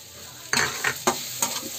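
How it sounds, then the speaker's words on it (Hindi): Roasted vermicelli and apple are stirred in a pan for apple seviyan kheer: four distinct scraping, sizzling strokes, fairly close, with quiet pauses between them and no talking. "एक दो बार चलाएंगे"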